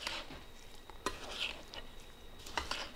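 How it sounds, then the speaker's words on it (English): Cranberry relish with orange juice concentrate being stirred together, a few sharp clinks and scrapes over a soft, wet churning, close and moderately quiet. "then I'm going to stir it all together"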